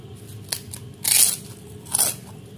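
Two crisp, close crunches, about a second apart, as someone bites into a crispy deep-fried snack, with a small tap before them over a quiet background.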